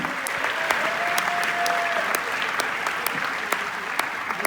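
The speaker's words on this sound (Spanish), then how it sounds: "Denles aplauso fuerte al Señor" Steady applause from a church congregation, dense and sustained at moderate loudness, with a few sharper individual claps standing out and a faint voice in the background.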